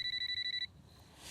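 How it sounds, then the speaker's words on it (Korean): Late in the evening, a telephone gives a rapid, trilling electronic ring for about half a second and then cuts off, leaving a faint background hum. "늦은 저녁 걸려오는 한 통의 전화."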